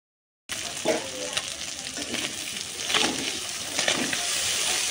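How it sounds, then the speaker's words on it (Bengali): Malai fish frying in a pan, a steady close sizzle with a few stirring scrapes and bumps, running throughout after a brief silent start. "এই যে আমার মলাই মাছটা কি সুন্দর করে ভাজা নিচ্ছি"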